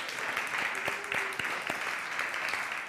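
A Sunday church congregation gives a round of applause, steady dense clapping at moderate volume with a few sharper claps and a brief sustained tone partway through.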